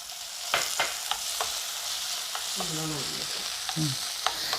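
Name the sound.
onion and tomato sautéing for paneer bhurji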